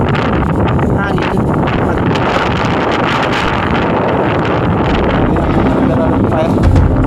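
Strong wind buffets the microphone in a continuous loud roar, with faint voices and an engine hum buried underneath.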